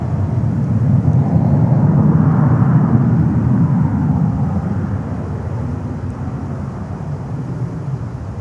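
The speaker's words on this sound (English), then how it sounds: "Amazon Prime Air from San Juan in Puerto Rico. 767-300 on the way. That's usually a landing here" A heavy Amazon Prime Air Boeing 767-300 cargo jet inbound from San Juan on approach to land at Miami airport, its broad engine roar rising and then easing off, steady and close amid wind noise.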